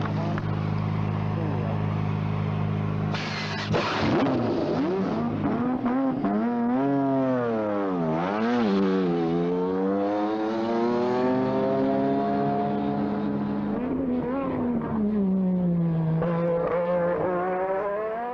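A 1983 Lotus 93T Formula One car with a Renault engine screams through rising and falling gear changes on a test lap, revving hard and close for a long stretch, with the pitch sweeping up and down.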